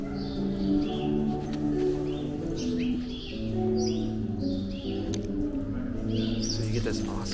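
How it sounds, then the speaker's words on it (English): Birds chirp and tweet in scattered short calls, moderately distant, over sustained music-like tones in the reverberant arcade at Bethesda Terrace, Central Park. "Then you also hear the birds."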